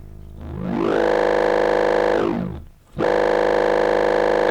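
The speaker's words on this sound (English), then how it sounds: "And it adds harmonics, but it adds harmonics by folding a sine wave." A wave folder synth tone built from a folded sine wave, rising into a dense buzzing stack of harmonics, holding, sweeping back down and dipping briefly before returning loud and bright.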